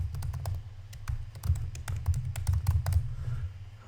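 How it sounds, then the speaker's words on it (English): Typing on a computer keyboard, a close run of quick, uneven key taps in bursts with brief pauses, alone with no talk. "I never type it super cleanly"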